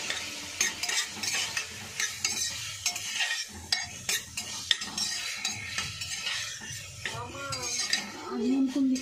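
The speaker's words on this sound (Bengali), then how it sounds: "এবার চিকেনটা এর মধ্যে দিয়ে দিলাম" Chicken pieces going into a pan at an outdoor picnic cook-up, then stirred with a metal utensil: steady sizzling under repeated scraping and clinking against the pan, close and busy, no talking.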